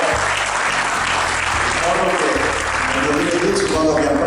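Crowd applause at a highway inauguration for the Pedemontana Veneta expressway, steady and dense throughout, with a low hum and murmured voices underneath.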